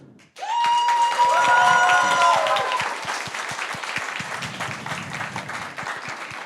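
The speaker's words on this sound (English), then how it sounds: "So give yourself a round of applause," A crowd at a business contest event bursts into loud applause with whistles and cheers, the clapping staying dense and steady before easing slightly toward the end.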